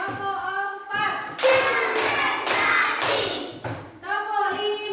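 Classroom children clap together in a counting game, a dense burst of several quick hand claps in the middle, with a teacher speaking before and after.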